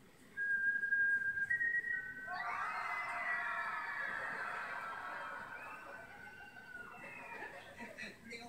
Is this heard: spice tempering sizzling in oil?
no